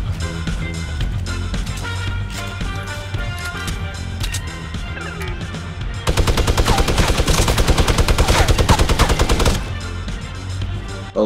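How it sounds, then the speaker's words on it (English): Light machine gun fire in the video game Fortnite, long sustained bursts of rapid automatic shots with a louder, denser stretch near the middle, heard up close. "Oh, let me guess, the freaking LMG."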